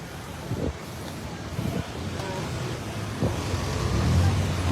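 Busy downtown street traffic on Rizal Street in Bacolod near a church, a constant rumbling wash of passing vehicles and wind with occasional louder thumps of passing cars, moderately loud.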